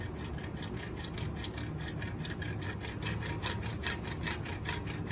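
A jeweler's saw cuts through carving wax in quick, even back-and-forth strokes, a close, rhythmic rasping that continues steadily without speech.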